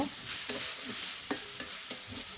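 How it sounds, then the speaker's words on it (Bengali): Radish bhaji being stirred in a pan, with soft, steady frying sizzle under a few sharp scrapes and clinks of the spatula, alone and close. "ঢাকনাটা খুলে ভাজিটা আমি ভালোভাবে নেড়ে চেড়ে নিব"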